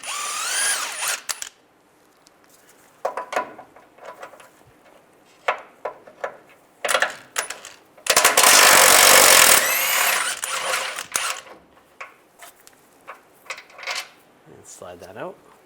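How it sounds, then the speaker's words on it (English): Power tool runs an 18mm socket to back out two bolts during a timing chain job on a 2007-2013 Chevy Silverado, with repeated short whirring bursts, one long loud sustained run in the middle, and ratchet clicks between them. "we're going to take these two bolts out,"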